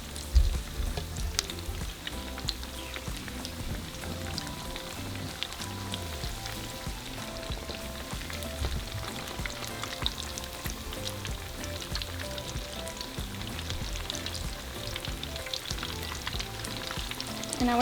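Cheesy potato cakes fry in oil in a pan with a continuous close sizzle and scattered crackles and pops, unbroken and with no voices.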